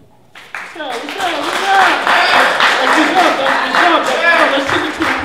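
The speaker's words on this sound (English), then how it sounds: "Another round of applause." A spoken word poetry crowd claps and cheers after a performance, a loud burst of applause that swells within the first second and holds steady while voices call out over it.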